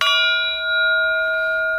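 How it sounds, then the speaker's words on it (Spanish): A gong struck once during a meditation session sounds a single loud strike, then a clear shimmering tone with several sustained pitches that rings on evenly. "Cada tanto voy a tocar el gong para mantenernos en el aquí y ahora."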